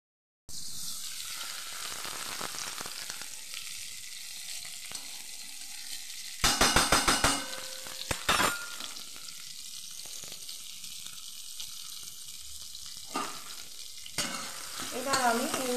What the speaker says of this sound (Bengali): এবার আমি এই উচ্ছেটাকে এই আদা আর ফোড়নে একটু হালকা ভাজা করে দেব